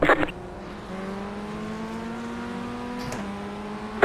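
Race car engines in a sim racing game, Vee and Ray cars at Rudskogen, drone steadily as the field accelerates from a green flag start, with a brief shift dip near the end and a short burst of noise at the start.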